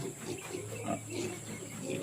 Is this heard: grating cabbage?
no